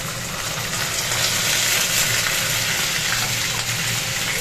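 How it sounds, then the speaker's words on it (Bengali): Onions frying in hot oil in a pan give a loud, steady, hissing sizzle that fills the space without pause, with a faint low hum underneath. "আগে পেঁয়াজটাকে ভাজবো। পেঁয়াজটাকে ভেজে নিয়ে আলুটাকে লাল লাল করে ভেজে নেব।"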